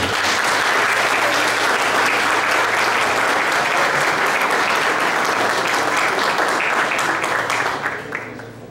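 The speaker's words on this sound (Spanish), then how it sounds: "Fuerte el aplauso, por favor." An audience at an academic symposium on economics and education breaks into loud, full applause. Thick, continuous clapping holds strong for several seconds before thinning out at the close.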